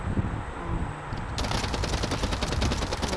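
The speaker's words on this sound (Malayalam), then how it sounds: "വെടിവെച്ചു." Rapid bursts of automatic gunfire from the video game Urban Heat, loud and continuous, thickening into a dense, crackling volley in the second half with no talk over it.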